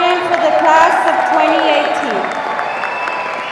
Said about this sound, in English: Let's give our top scholars a round of applause.